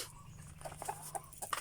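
Native chickens and a large white rooster in a coop cluck softly and intermittently, faint and somewhat distant, with short scattered calls over a low background hum.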